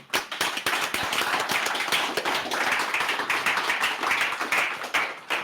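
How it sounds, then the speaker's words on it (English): Audience applause after a data analytics conference talk, dense steady clapping from many hands throughout, fairly loud and continuous with no speech. "people were clapping here"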